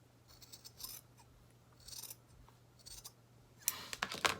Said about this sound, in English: I'm going to go ahead and trim it with my scissors closer to the white part